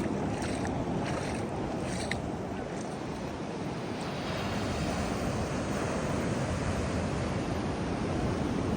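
Ocean surf at Mihiripanna Turtle Beach, a sheltered bathing spot near rocks on Sri Lanka's south coast, rolls in as a steady, dense wash of waves with some wind buffeting, continuous and fairly loud.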